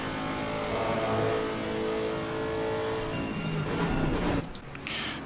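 A racing car engine in a sim racing game is heard from the onboard view at Kyalami, revving loud and steady with shifting pitch, then dropping briefly as the car brakes near the end.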